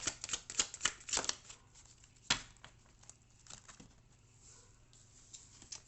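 Tarot cartomancy cards being handled close up, with a cluster of quick crisp shuffling snaps and flicks followed by softer sliding and occasional card taps, no talk.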